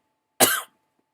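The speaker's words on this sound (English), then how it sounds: "I'm coughing." A single short, harsh cough, close and fairly loud, then silence.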